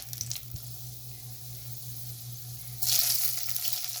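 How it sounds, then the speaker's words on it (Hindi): Tomatoes and green chilies frying in a pan, a steady low sizzle with a low hum underneath, swelling into a louder hiss near the end as they hit the hot oil. "तो फिर मैं इसमें ये टमाटर और ये मिर्चें डाल दूँगी"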